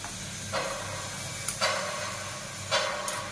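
Grated coconut goes into hot ghee in a pan. A steady hiss rises in three distinct surges as more coconut drops in.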